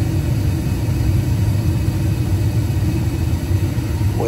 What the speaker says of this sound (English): Waiting for the blower to kick on.